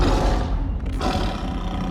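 A Bengal tiger roaring loud and close in a residential yard, one long, rough, sustained roar.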